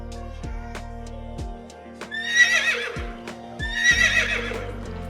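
Horse neighing in a farmyard, two loud, shrill whinnies in a row, each rising and trembling, with light clip-clop hoofbeats and soft music underneath.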